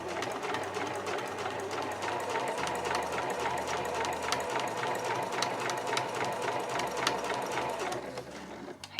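A sewing machine runs steadily, stitching a straight seam on a small curved Marimekko fabric zip pouch, with a constant mechanical whir and rapid needle clatter for about eight seconds, then stopping near the end.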